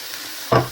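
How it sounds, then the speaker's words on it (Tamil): Vegetables sautéing in a pan give a low background hiss, then a single short sizzling burst as they are stirred. "நல்லா வதங்கிட்டது"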